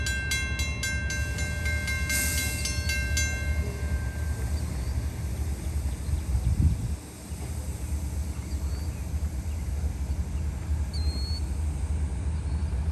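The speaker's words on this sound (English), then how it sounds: "And here comes the train." A freight train rumbles past a rail crossing, its horn sounding in long tones at the start over a steady, loud roll of wheels and cars, with a brief dip in the noise midway.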